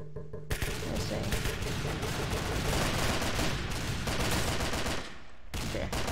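Rapid gunfire in a video game crackles almost without pause, dense bursts overlapping at close range for most of the clip before a brief lull and another burst.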